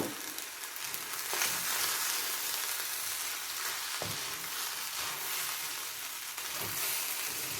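Tuna fried rice sizzles steadily in a hot pan with soy sauce, a continuous bright crackle with a few soft stirring knocks, close and fairly loud throughout.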